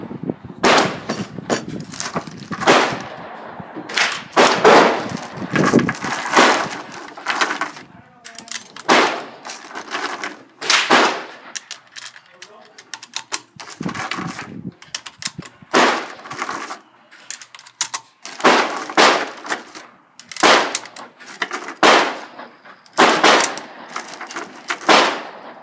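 Yugoslavian SKS M59/66 rifle fired repeatedly outdoors, loud sharp shots in uneven bursts with pauses between groups and metallic clinks of falling casings in between.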